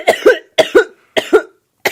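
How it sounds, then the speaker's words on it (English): Three pairs of hard, harsh coughs in quick succession from a person, loud and close, each pair separated by a short silence, with a final cough starting at the end. "Please cough really hard so I can feel it over here."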